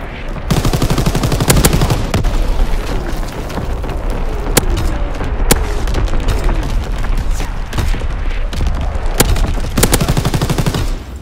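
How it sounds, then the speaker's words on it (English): An artillery battery firing in the Call of Duty video game, with heavy booms and rapid gunfire crackling over a dense roar of battle noise that keeps up loud and unbroken throughout. "Firing battery one."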